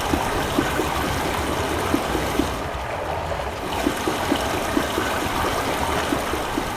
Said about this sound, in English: So, pipes with water flowing, you can look at it, it's contextual.